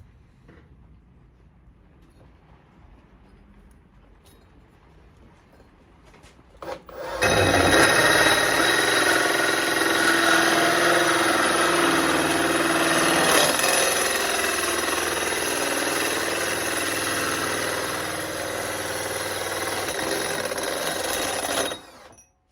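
Tube notcher cutting a steel tube for a fuel cell cage on a turbo LS 68 Camaro, a loud continuous grinding whine starting after a quiet lead-in and running about fifteen seconds before stopping abruptly.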